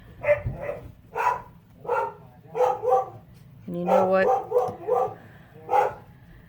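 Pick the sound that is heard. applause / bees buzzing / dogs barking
dogs barking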